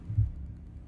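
A low, muffled heartbeat thump sounds once in Escape from Tarkov, followed by a dull throbbing hum that fades over the next second.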